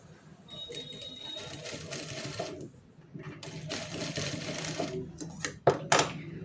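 Sewing machine stitching a lace tassel, running in several quick bursts of rapid mechanical clatter with brief pauses and handling clicks between them, close and moderately loud.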